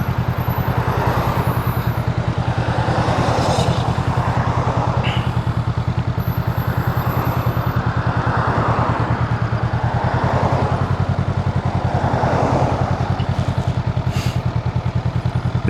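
A Honda Rebel 500 motorcycle pulls away from a stop into first gear, its engine chugging steadily and loud throughout with a continuous low rumble and faint wind noise over it.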